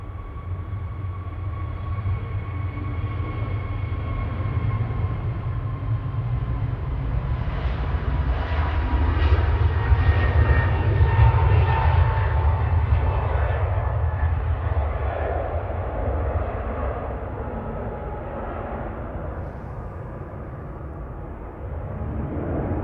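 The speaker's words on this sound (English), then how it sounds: "EasyJet 3828 to Milan, OEISE, A321 Neo," An EasyJet Airbus A321neo jet airliner at Manchester Airport gives a deep engine rumble with a whining tone, swelling to a louder peak midway and easing off, heard alone at moderate distance.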